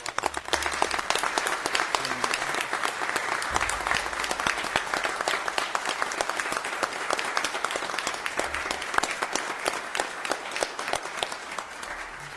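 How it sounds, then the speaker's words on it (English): Sustained audience applause at a county board of supervisors meeting, honoring nominated employees standing for recognition; dense, steady clapping from a large room fills the whole stretch without pause. "Let's give them a round of applause."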